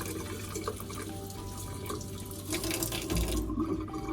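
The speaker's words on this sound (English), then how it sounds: "wet your hands with clean running water" Tap water runs steadily into a sink, a soft continuous splashing that swells slightly near the end.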